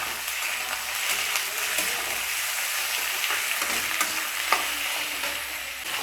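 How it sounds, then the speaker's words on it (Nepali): Goat kidney and liver fry and sizzle steadily in hot oil in a pan, a constant close hiss broken by occasional stirring scrapes, with no voices. "यसलाई पनि मजाले भुट्ने पहिला।"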